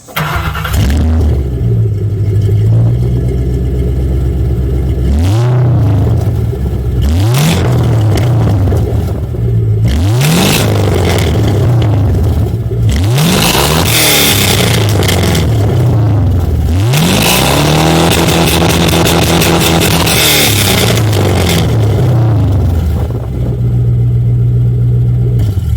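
An LS V8-swapped Mazda Miata engine is revved repeatedly through an exhaust with two mufflers, several rising blips that climb and fall back to a deep, rumbling exhaust idle, loud and close.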